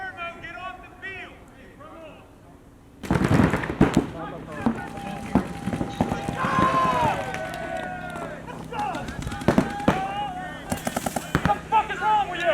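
Paintball guns fire on a paintball field in quick sharp pops and rapid bursts, mixed with loud shouting players nearby.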